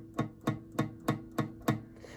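Six evenly spaced strums of a guitar chord with fingers pressing too lightly on the strings give short, dull, buzzing hits about every quarter second, close and fairly quiet, with no talking.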